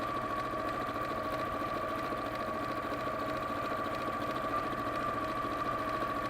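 Sewing machine straight-stitching along raw fabric edges, a steady, fairly quiet mechanical whir with a constant rhythmic hum throughout and no talking.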